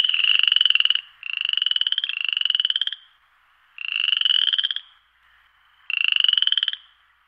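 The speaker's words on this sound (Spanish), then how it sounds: "No sé, ¿una rana? Efectivamente." A frog croaks in loud, rasping bursts of about a second each, five calls with short pauses between them, close and clear with no voices.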